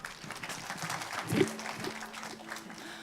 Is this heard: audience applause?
yes